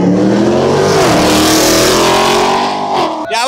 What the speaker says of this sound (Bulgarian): BMW 535 срещу Мустангче.